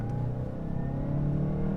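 A 2019 Mazda CX-5 Turbo on snow tires accelerates in sport mode, its engine rumbling in a steady, sustained drone with a low, even pitch throughout.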